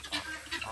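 A hungry goose at a farm animal sanctuary gives two short, harsh honks in quick succession, close and fairly quiet.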